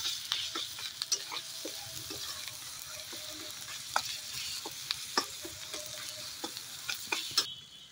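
Spice masala and softened tomato fry in a pan under a low, continuous sizzle, broken by light scrapes and faint taps of a stirring spoon, quiet and close with no voices.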